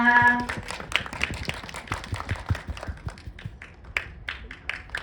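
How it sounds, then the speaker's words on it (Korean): An audience at a film cast stage greeting at Megabox COEX cinema breaks into applause. A brief musical tone leads into a dense patter of many clapping hands that gradually thins and softens. "큰 박수 부탁드리겠습니다"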